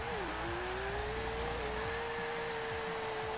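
A car engine in Forza Horizon 4 roars through a drag strip run, holding a loud sustained tone that steps up through revs with faint tire noise underneath.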